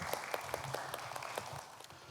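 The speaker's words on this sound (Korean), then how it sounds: "자, 박수로 환영해 주시기 바랍니다." Faint, sparse applause from a seminar audience welcoming a presenter, a few scattered claps standing out over a soft background that thins toward the end.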